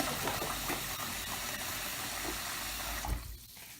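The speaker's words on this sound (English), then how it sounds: "because we have to add water" Water runs steadily from a tap into a pan of meat, a close, continuous splashing rush that cuts off near the end.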